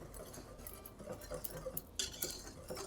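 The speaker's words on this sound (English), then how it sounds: "I'm going to be using a whisk to just add some air to the dry ingredients" Dry waffle ingredients whisked in a bowl, giving a steady scraping, clinking patter of metal against the bowl, close and moderately quiet, with no talking.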